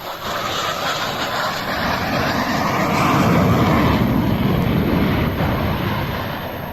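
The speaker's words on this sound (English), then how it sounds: "During an air show, the Spanish Air Force F-18 swerved dramatically to avoid birds." Spanish Air Force F-18 jet at an air show, a loud, broad roaring rush of jet engine noise that swells toward the middle and then eases slightly as it passes.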